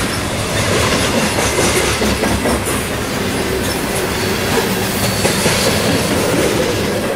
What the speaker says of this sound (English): CSX has been running their trains with distributed power units, or DPUs for short